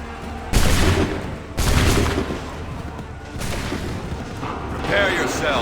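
Three heavy musket volleys crack out in quick succession during a Revolutionary War battle in Assassin's Creed III, each a loud booming burst that trails into a rolling rumble of distant fire.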